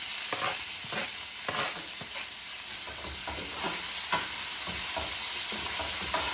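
Onion stir-frying in a pan after fish has been seared, a steady loud sizzle with rhythmic scraping strokes of a utensil, close and continuous with no talking.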